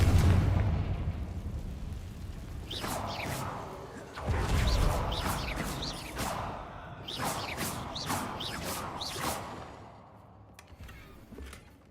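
Confringo fire-blast spell in Hogwarts Legacy, a series of booming explosive bursts, with one heavy blast near the start and another around four seconds, followed by crackling, whooshing magic effects that fade out.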